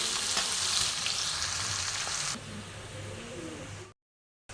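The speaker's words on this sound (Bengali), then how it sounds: "পেঁয়াজটা আমি লাল করে ভেজে নেব।" Onions fry in hot oil with a loud, bright sizzle that drops to a softer crackle partway through, ending in a brief silence; no one speaks.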